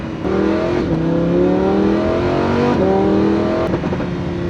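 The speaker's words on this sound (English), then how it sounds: "The downshifts on this are way punchier, as well as the upshifts." A Lamborghini engine revs hard through several quick gear changes, each shift briefly dropping the pitch before it climbs again, loud and close.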